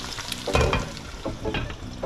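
Oxtail browns in a hot pan for Jamaican oxtail with butter beans, giving a close, steady sizzle with crackling bursts and scraping stirs.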